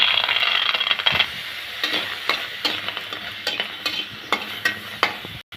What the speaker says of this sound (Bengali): এখন রসুন আর পেস্টটা হালকা করে ভেজে নিব।